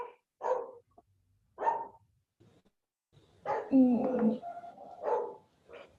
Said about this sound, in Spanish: los perros, perdón